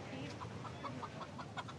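Chickens clucking in short, repeated bursts over a steady farmyard background, fairly close.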